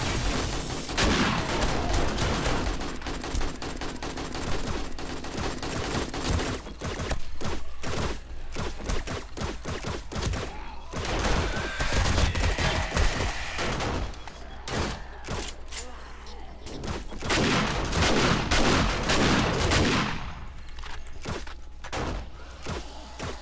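Rapid bursts of gunfire from the zombie survival game 7 Days to Die, with dense volleys of loud, sharp shots and heavy thuds coming in clusters and brief gaps during a nighttime horde attack.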